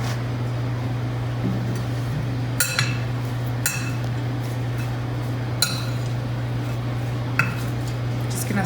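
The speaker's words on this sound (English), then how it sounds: "Just gonna stir this up a little bit, and then you can add your dressing." A celery and apple salad is stirred in a bowl, giving a few sharp clinks and knocks of the utensil against the bowl over a steady background hum.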